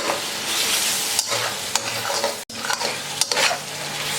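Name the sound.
frying biryani masala with chicken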